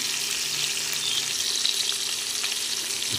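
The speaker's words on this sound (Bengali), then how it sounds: "একই তেলে আমি দিয়ে দিচ্ছি আলুগুলো।" Sliced potatoes fry in hot oil with a little salt, a steady, close-up sizzle that keeps an even level throughout, with faint stirring and no voices.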